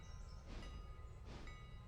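A locomotive in the Railroader game eases forward with a low, steady rumble, and two brief hissing bursts rise over it. The sound is quiet and there are no voices.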